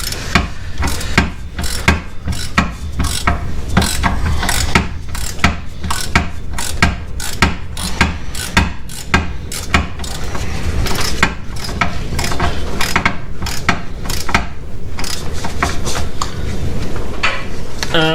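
A ratchet tightens the reverse light switch on a Jeep TJ, giving quick, rhythmic clicking strokes that repeat steadily and close by throughout.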